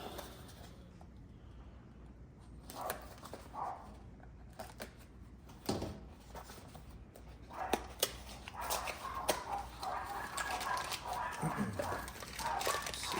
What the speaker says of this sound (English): I apologize about the dogs in the background.